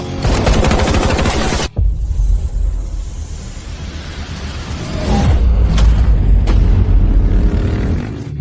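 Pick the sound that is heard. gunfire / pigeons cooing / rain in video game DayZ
gunfire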